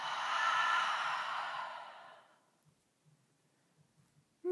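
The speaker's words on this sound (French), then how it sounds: "Prenez une grande inspiration par le nez. Expirez bouche ouverte." A single long breath during a yoga class, heard close and soft as a broad airy exhale through an open mouth that fades out after about two seconds, leaving near silence.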